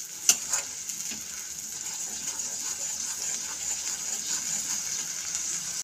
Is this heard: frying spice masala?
yes